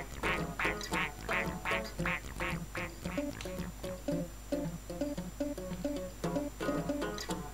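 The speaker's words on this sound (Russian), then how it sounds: "вот смотрите, утка такая вот" A cartoon duck in the Chuchel video game quacks in quick rhythmic runs, bright nasal calls repeating several times a second over soft background game music, with no talking.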